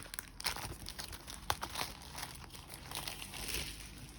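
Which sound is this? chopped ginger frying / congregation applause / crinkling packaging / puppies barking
crinkling packaging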